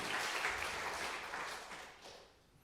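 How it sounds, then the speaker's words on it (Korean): Church congregation applauding during a Korean Methodist Easter Sunday worship service, a steady dense wash of clapping that holds for about two seconds and then tapers off softer toward the end. "박수로도 하나님 앞에 영광 올려드리겠습니다."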